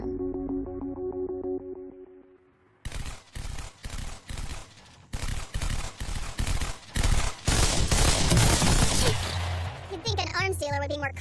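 Rapid bursts of gunfire from an anime battle with a sniper, loud and close, arriving in a dense run of sharp cracks after a quiet musical opening and fading into scattered effects at the end.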